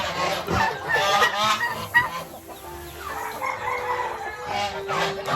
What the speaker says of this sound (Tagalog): Mga tropang gansa, gutom na rin to guys.